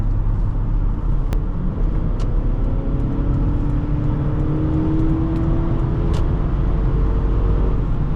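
Inside a 1995 Lexus LS400 accelerating onto a freeway, a loud, steady engine and road drone with a smoothly rising engine tone, heard from within the cabin with no talking.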